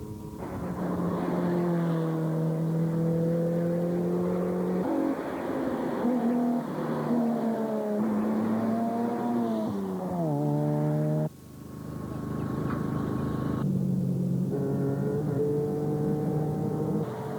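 Rally cars at NZ Targa 2000 racing on fast tarmac roads, engines revving hard with rising and falling pitch through gear changes, loud and close, a brief drop before the revving resumes.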